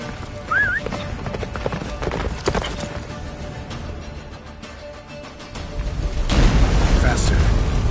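Hooves of the horse Roach galloping in a game, a steady rapid clip-clop under a voice, with a rising whoosh and rumble near the end.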